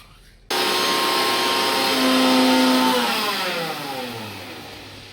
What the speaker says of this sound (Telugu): ఈ విధంగా మిక్సీ పెట్టి మెత్తగా చేసినటువంటి ఇంగువ పొడిని